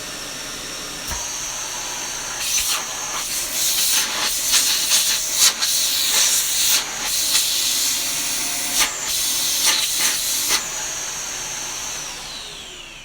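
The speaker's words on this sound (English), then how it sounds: "And that is the CY18 Dyson canister with the kinetic cyclone" A Dyson CY18 canister vacuum cleaner with a kinetic cyclone runs with a steady airy hiss, broken by repeated louder whooshing surges as the suction changes, then settles back. No voices.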